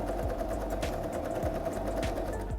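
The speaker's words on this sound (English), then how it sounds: "we're going to sew along this entire seam at 1 centimeter seam allowance and then overlock to finish" A sewing machine stitches a seam on a puff-sleeve wrap dress at a one-centimetre seam allowance. Its needle chatters in a fast, even, continuous rhythm, running close and fairly quiet throughout.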